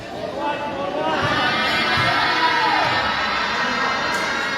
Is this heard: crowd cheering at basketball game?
yes